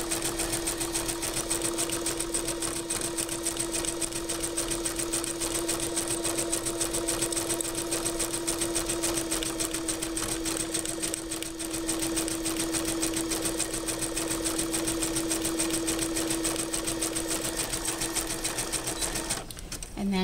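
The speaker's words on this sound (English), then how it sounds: "So now we're going to sew down both sides just to cover up the raw edges of the pack. Same zigzag stitch." A sewing machine runs steadily for a long stretch, zigzag stitching down the edges of a Capri Sun juice pouch party favor bag, a continuous close mechanical whir with rapid needle rhythm and a brief stop at the end.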